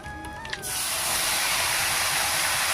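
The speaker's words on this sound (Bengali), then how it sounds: "নিয়ে এখানে আমি অ্যাড করে দেব পেঁয়াজ বাটা" Onion paste made from two onions drops into hot oil already holding dried red chillies and whole garam masala for a Bengali prawn curry with pointed gourd, bursting into a loud, steady hiss and sizzle after a quiet moment.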